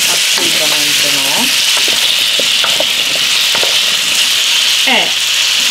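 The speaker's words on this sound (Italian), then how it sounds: "le mie patate, muovo leggermente all'interno dell'olio, quindi non le faccio friggere." Potatoes cooking gently in a pan of oil, a steady loud sizzle with occasional scraping and clinks as they are stirred, no voices.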